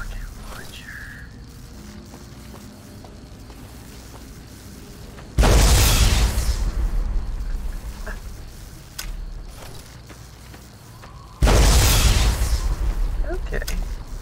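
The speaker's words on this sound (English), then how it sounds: "It's like a rocket launcher." Two heavy, sudden blasts from a rocket launcher in the game Fallout: New Vegas, each a loud broadband boom that lingers for several seconds, spaced about six seconds apart over a quieter game background.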